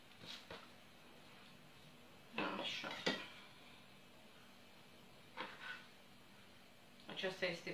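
A knife slices through a soft, not-yet-set leopard-pattern biscuit, giving several short clinking and scraping knocks in separate bursts against a quiet kitchen background, close by and moderately loud.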